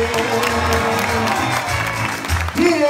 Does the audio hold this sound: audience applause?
yes